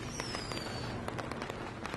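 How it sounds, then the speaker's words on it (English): Fireworks crackle and pop in the wrestling game WWE 2K20, with a thin whistle at the start and then a rapid string of sharp bursts over a steady roar, moderately loud and without talk. "We're shooting off fireworks."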